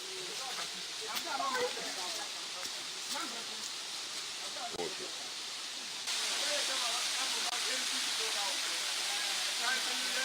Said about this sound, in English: This beautiful waterfall is the first and flows from the apex of the mountains and drops slowly into the valley.